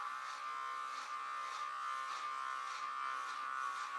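Electric hair clippers buzz steadily as they trim hair on a head, a thin, even whir with faint rhythmic swells as the blades pass, close and fairly quiet, with no talking.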